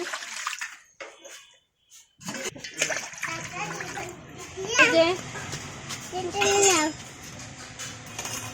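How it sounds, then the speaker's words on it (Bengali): Water splashes and pours into a kadai for boiling potatoes in uneven bursts, with people talking nearby over the running water. "এবার কড়াইতে দিয়ে দিব পানি আলু সেদ্ধ দেওয়ার জন্য।"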